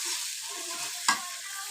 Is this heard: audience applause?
no